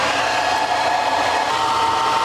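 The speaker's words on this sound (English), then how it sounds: "we're going to have to use a hair dryer to clear it out" A hair dryer blows at close range, de-icing a leaky refrigerator, with a steady, loud whirring hum that holds unchanged throughout.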